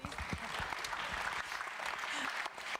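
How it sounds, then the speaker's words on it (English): An audience gives a round of applause at the close of a panel session on digitalisation and energy, a steady, full clapping sound that continues evenly and dips briefly near the end. "I'd like to ask the audience to join for a round of applause"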